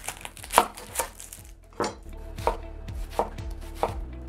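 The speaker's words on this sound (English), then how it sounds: "Do the same thing with half of a medium white onion." Half a medium white onion is chopped on a board with a knife, giving about eight crisp, irregular chops with short pauses between them, close and clear, no talk.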